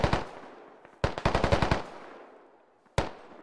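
Gunfire in the video game Squad during a militia engagement: an opening shot, then a rapid automatic burst of about ten close rounds with a decaying tail, and a final single shot near the end.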